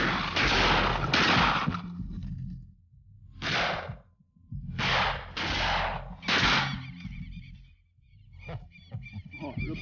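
Hunters fire shotguns at passing flocks of birds: several loud, booming blasts in close succession, some rapid pairs, each followed by a rolling outdoor echo.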